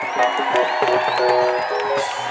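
A church crowd at a Rwandan gospel music event, with women ululating in high, wavering trills over cheering and whoops, loud and continuous throughout.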